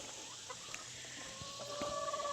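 Chickens cluck softly inside a coop, a few short calls and one brief rising note over quiet rustling, fairly faint and close.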